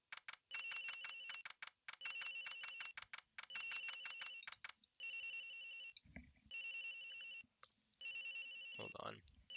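Telephone ringing in the Ace Attorney Investigations video game: bursts of trilling electronic ring repeat in regular pulses, loud and close, with a brief pause midway and a voice speaking near the end.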